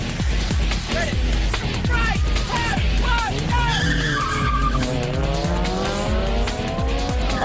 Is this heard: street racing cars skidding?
yes